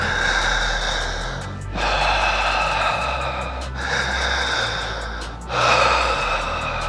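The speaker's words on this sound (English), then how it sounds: "Breathe in, belly goes out. In and out, belly comes down." Slow, deep diaphragmatic breaths drawn in and pushed out in a steady cycle, each long airy inhale and exhale close and clearly audible against a quiet background.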